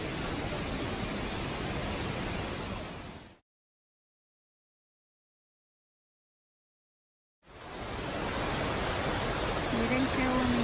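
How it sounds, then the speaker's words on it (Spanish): Mineral water pouring down a cascade at the Santa Rosa de Cabal hot springs, a steady broadband rush that drops out completely for a few seconds midway and then resumes at the same level. "Miren qué bonito la cascada, como va cayendo el agua."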